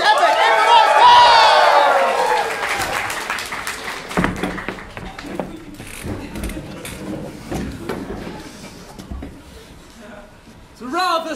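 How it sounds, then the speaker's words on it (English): An audience at an improvised play applauds and cheers loudly at first, then the clapping thins out and fades under scattered noise and talking. "We get a round of applause for this epic"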